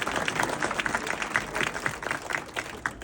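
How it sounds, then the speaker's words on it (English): An outdoor crowd claps in response to a call to applaud themselves at a public event, continuous dense applause at fairly strong level with scattered sharper claps throughout, no speech over it. "Give yourselves a round of applause"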